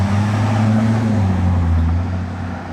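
A Ferrari 812 sports car engine hums loudly at low pitch, briefly revving up and holding before easing off, close by and with no talk.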